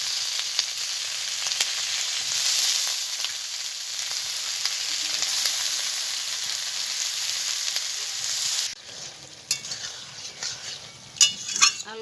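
Ridge gourd and potatoes fry in hot oil in a village kitchen with a steady, close sizzle, then the frying drops away to scattered spoon scrapes and metallic clinks against the pan.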